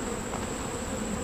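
Honeybees at an open hive during honey harvest, with brood and pollen-filled comb, hum in a steady, dense buzz close by, with no talking.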